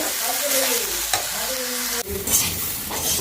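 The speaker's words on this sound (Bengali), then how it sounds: "এই যে চালটা দিয়ে দিচ্ছি কড়াইতে তো একটু ভালোভাবে নাড়াচাড়া করে ভাজা ভাজা করে" Rice stirred and fried in a kadai for a home meal, giving a steady loud sizzle with scraping strokes throughout and a brief break in the middle, with no talking.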